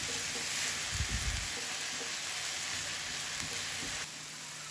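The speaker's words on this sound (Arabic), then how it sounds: "نحن ما بدنا البصل ياخذ لون، بس مجرد انه يدبل معنا" Onions softening in a frying pan give a steady, close hiss of frying, with a brief scrape of stirring near the start and no voices.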